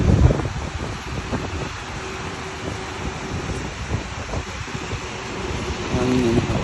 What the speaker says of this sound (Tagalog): Ay, lakas ng hangin pala.